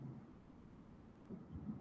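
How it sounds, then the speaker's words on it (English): Low rumbling thunder rolls through a rainstorm, a soft continuous murmur that swells slightly near the end, distant and faint with no voices. "Can you hear the rumbling thunder"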